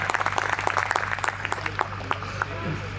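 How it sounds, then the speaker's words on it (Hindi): Audience applause at a Hindi poetry gathering, the Hastinapur kavi sammelan, comes as a burst of sharp claps that thins out and fades, with a steady low hum and some murmuring voices under it. "एक बार जोरदार तालियां बजा करके मुझे आशीर्वाद दीजिए"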